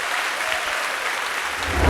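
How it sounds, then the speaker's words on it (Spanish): A congregation applauds steadily at a Panamanian church service, a dense even wash of clapping at constant level throughout, swelling slightly louder near the end. "Aplauda al Rey de Gloria"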